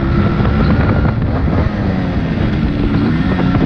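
Modified Yamaha RX100 two-stroke dirt bike ridden slowly, its engine a steady loud buzzing drone with heavy wind rumble over the microphone throughout.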